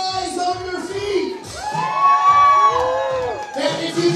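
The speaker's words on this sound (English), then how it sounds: "I need for everybody to scream, oh yeah!" Wedding guests at a South Florida reception whoop, scream and cheer together as a loud crowd, with voices rising and falling in a sustained burst of excited yelling.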